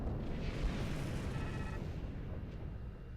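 Starship weapons, including dual plasma beams, fire in the video game Star Trek Online as a dense, continuous rumble of booming blasts at a fairly low, steady level with no talk over it.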